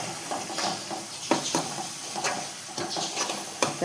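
Spices sauté in a pan over a low gas flame, giving a soft steady sizzle broken by light clinks and scrapes of a stirring spoon, fairly quiet and close.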